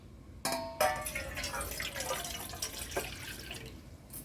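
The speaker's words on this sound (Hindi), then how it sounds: "इसमें मैं 2 गिलास पानी डालूंगी।" Water is poured from a glass into a pot for a spiced home remedy decoction for colds. A light clang opens a close, splashing pour that tapers off, then a brief second splash follows.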